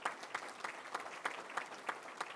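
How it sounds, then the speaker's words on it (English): Faint, distant audience applause with a loose rhythm of separate claps, quiet and even throughout, honouring teachers at a banquet hall event. "Give the teachers of America a round of applause."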